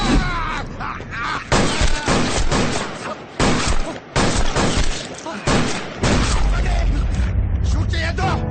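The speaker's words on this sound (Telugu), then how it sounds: "రేయ్, ఎవర్రా షూట్ చేస్తున్నది?" Gunfire in a movie scene, several loud bursts of shots separated by brief gaps, with voices speaking around them and a low rumble underneath.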